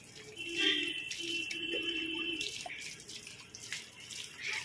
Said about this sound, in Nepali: यसलाई चिसो पानी हालिदिने अरे अब